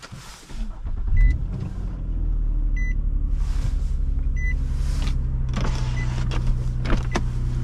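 A 2011 Nissan Maxima SV cranks and starts, then settles into a steady low idle inside the cabin. Several short electronic chimes sound, and there is a brief whir from the car's electrics.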